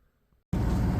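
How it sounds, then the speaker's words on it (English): Loud, steady broadband whoosh of a fan switched on abruptly halfway through, running continuously in a truck workshop while epoxy stripper is brushed onto a 1999 Chevy C2500; a faint low rumble precedes it. "Sorry about the noise, I had to turn the fan on."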